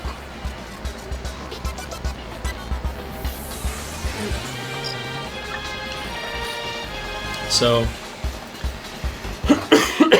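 Background sounds from the game Paper Mario: The Thousand-Year Door play, then a couple of short, harsh coughs near the end mixed with a voice.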